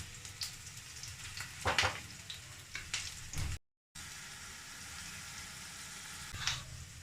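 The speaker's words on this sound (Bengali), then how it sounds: "দেখো পেঁয়াজটা ভাজা ভাজা হয়ে গেছে।" Onions fry in a pan with green chillies for a Bengali kachu shaak with chickpeas. A soft, continuous sizzle runs throughout, with a few sharper stirring clicks and a short break in the middle.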